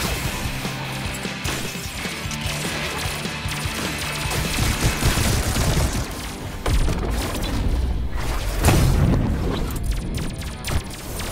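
Dense, continuous gunfire and mechanical clatter fill the Swarm 2 VR game as the player takes hits. The barrage stays steady and loud throughout, with booming bursts near the end and no voice on top.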